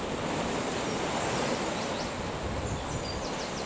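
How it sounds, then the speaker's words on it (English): Steady rush of waves and wind on brown, fairly calm water, a constant broadband wash with no talking and little variation throughout. "there's still quite a bit of movement on the water here."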